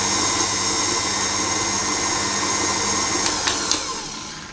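An electric mixer whirs steadily at high speed, beating vanilla pound cake batter until fluffy, a loud continuous drone with a few faint knocks near the end and no talk.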